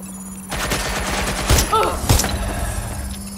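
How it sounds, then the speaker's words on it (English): Gunfire in the Watch Dogs Legion video game, a rattle of shots with two sharper bursts standing out over a steady game soundtrack, with a voice briefly heard. "I'm hearing gunfire"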